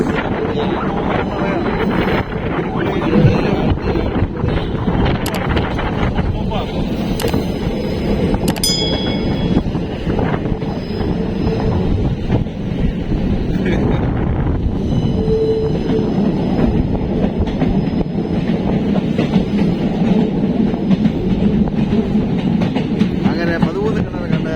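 A train crossing the 13-arch bridge in the Western Ghats gives a loud, continuous rumble of wheels and carriages, heard close from on board, with brief metallic squeals and buffeting wind noise throughout.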